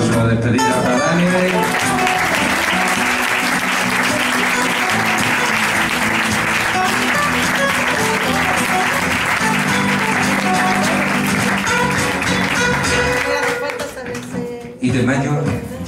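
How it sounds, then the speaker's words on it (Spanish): Sustained applause from a live audience at a farewell for a performer, dense and loud throughout, thinning briefly near the end before swelling again. "Le damos un aplauso de despedida a Dani."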